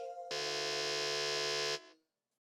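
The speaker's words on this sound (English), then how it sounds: "you've gone for the buzzer" Quiz show buzzer on a televised quiz competition, a single loud, steady electronic tone held for about a second and a half before cutting off, with no voices over it.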